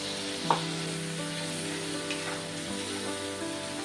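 Ground spice paste fries in a pan for a mourola fish curry, a continuous close sizzle with a few sharp spoon taps and scrapes as it is stirred, no voices present.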